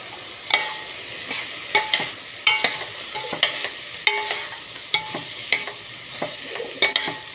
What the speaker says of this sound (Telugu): క్యాప్సికమ్ ముక్కలు కూడా వేస్తున్నాను మళ్ళీ ఒకసారి కలుపుకొని